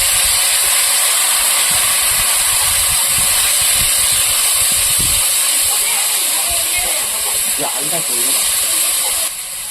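Water splashed onto turmeric and chili powder in a hot pan while cooking pabda fish, giving a loud, continuous broad sizzle and hiss that runs through the whole stretch, with a voice faintly in the background.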